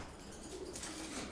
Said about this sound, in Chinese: 这个公鸽子很厉害的，有可能要揍它